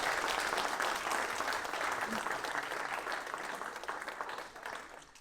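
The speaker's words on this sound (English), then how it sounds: "Give a round of applause for Obie." An audience at a talk on application development patterns using AI applauds the speaker, steady dense clapping that holds throughout and slowly thins toward the end, with no voices over it.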